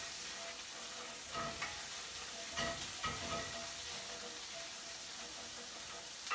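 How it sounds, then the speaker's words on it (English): Stirring and sizzling in a skillet during deglazing, after alcohol is added to loosen the browned bits off the bottom; a steady frying hiss with a few brief scraping bursts, close and continuous, no voices. "You're getting all that good stuff up off the bottom of the skillet."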